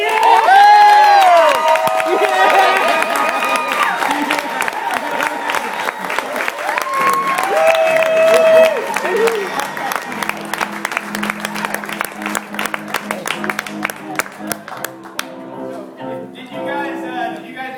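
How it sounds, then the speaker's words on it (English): A studio audience erupts in loud, sustained applause with cheers and whoops as Carole and Joe SAK are welcomed onto a show stage; the clapping gradually thins toward the end while voices shout over it. "So please, welcome to the stage with much thunderous applause"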